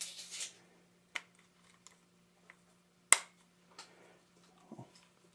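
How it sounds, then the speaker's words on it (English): Old vintage camera shutter fired at a slow speed: a few scattered sharp mechanical clicks and snaps spread over several seconds, with one louder click in the middle, close up against a quiet room with a steady low hum. "Now we'll try one of the slow shutter speeds and see if it decides to work tonight."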